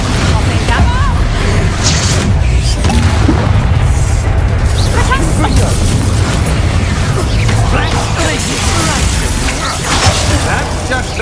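Confringo fire spell blasts in the video game Hogwarts Legacy, loud booms and mechanical clatter in a continuous combat mix, with characters talking over the action.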